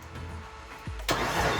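Starter cranking on a rebuilt Pontiac GTO engine, a short low churn that bursts into a loud, broadband surge of engine noise near the end, close and unaccompanied by voices.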